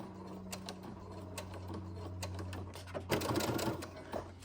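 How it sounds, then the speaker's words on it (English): A sewing machine stitches through a paper plate with a quiet, rapid mechanical chatter, running steadily and then speeding up near the end, close and fairly soft. "we're gonna back stitch, and then we're gonna forward stitch again"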